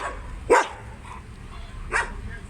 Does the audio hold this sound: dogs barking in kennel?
yes